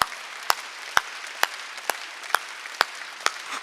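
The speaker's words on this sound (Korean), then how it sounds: "박수 세게 치라니까." Hands clapping in a church congregation during a Wednesday worship service, sharp claps landing in a slow, steady rhythm about twice a second over a faint room background.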